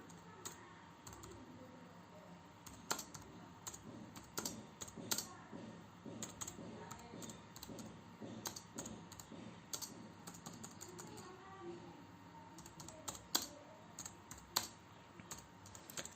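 Typing on a computer keyboard while writing a greetings email, a steady run of quick, fairly faint key clicks with irregular louder taps over a low background hum.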